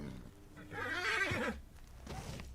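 A horse in Red Dead Redemption 2 lets out a loud, shrill whinny that rises and wavers, followed by a shorter snort and some soft hoof sounds.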